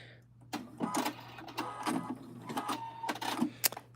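A sewing machine locks a stitch, giving a few short mechanical bursts of clatter at close range over a steady low motor hum.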